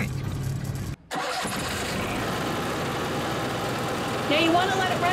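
An Onan RV QG 5500 generator starts up, a brief cut then a steady running drone that grows slightly louder near the end, heard from close by with a person talking faintly.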